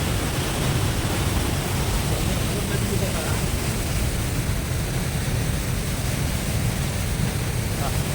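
Water rushes fast through the Krishnagiri KRP dam, a loud, unbroken roar that stays steady throughout with no pauses.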